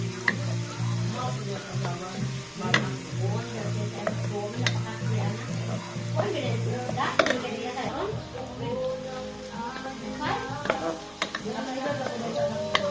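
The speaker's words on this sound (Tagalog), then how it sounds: "Lagay natin yung bawang" Garlic sizzles in a pan while being stirred, a steady crackling fry broken by utensil taps and scraping, with a person talking over it.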